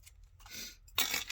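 Scissors snipping through a postcard up close, a couple of short crisp cutting strokes, the last one louder and brighter.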